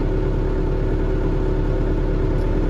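A tractor engine labours uphill in first gear during pre-sowing cultivation for soybeans, a steady close low rumble with a throbbing idle-like pulse throughout, no speech.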